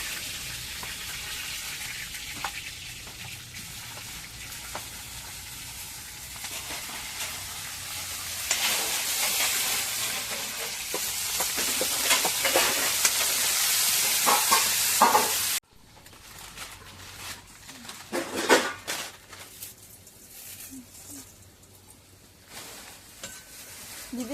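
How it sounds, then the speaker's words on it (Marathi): Cumin and green chillies frying in hot oil in a home kitchen, a loud continuous sizzle that swells mid-way before cutting to quieter frying with faint clatter. "तेलामध्ये थोडीशी जिरा आणि मोरी टाकायची थोडीशी ती झाली की त्याच्यामध्ये मिरची"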